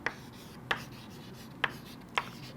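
Pen writing a physics equation on a surface, four short scratchy strokes spaced irregularly over a soft background hiss, close and fairly quiet, no talking.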